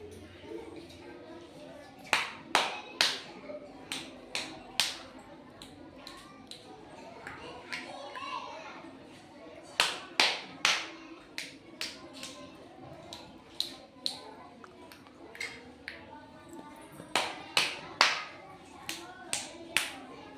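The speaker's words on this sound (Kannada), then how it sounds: "ಇಲ್ಲಿ ವಿವಿಧ ರೀತಿಯ ಚಪ್ಪಾಳೆ ತಟ್ತಾ ಇದ್ದಾನೆ ಬನ್ನಿ ನೋಡೋಣ ಮೊದಲಿಗೆ ನಲಿಕಲಿ ಚಪ್ಪಾಳೆ" A first-grade child claps his hands in several classroom patterns, sharp close claps in quick clusters separated by pauses, with a voice talking quietly in the background.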